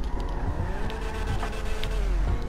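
Karin 190z sports car in GTA Online, upgraded, engine running loud and steady with a raspy drone that rises and falls in pitch as it accelerates, with possible tire noise, no talking.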